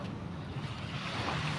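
Sea waves wash steadily on a shore, a continuous soft rushing surf mixed with wind buffeting the microphone, moderately faint with no clear individual breaks.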